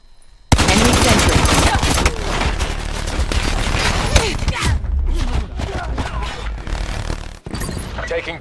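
Sustained rapid gunfire from an enemy sentry gun in Call of Duty: Black Ops 4, loud and dense, with a burst of other battle noise and brief pauses.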